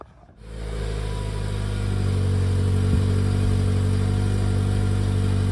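Stock exhaust on a Toyota Corolla E210 hatchback idling steadily up close, a low constant drone with one brief blip near the middle and no voices.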